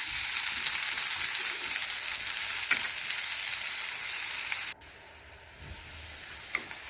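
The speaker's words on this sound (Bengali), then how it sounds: "পেঁয়াজ আমি ভেজে নিয়েছি।" Onions sizzle steadily in a hot pan of oil, a dense continuous frying hiss that cuts off abruptly and returns quieter, with a faint stir or clink near the end.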